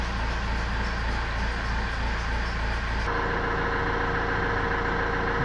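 Renault Espace 4 engine idling steadily to warm its coolant, a continuous close low hum with no talk.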